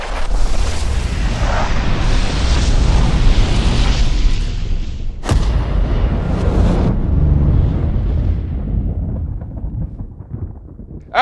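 A loud, sustained roar of bursting fireworks, with a sharp crack midway before the rumble fades out toward the end.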